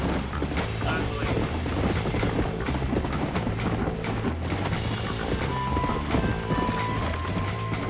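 Horse hooves clop in a rapid, continuous galloping rhythm in the Red Dead Redemption video game, loud and close over a busy bed of game sound.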